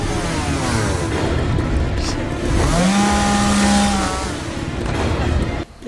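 A chainsaw revs in the Texas Chainsaw Massacre video game, a loud, continuous engine drone that rises in pitch partway through, over dense background game noise.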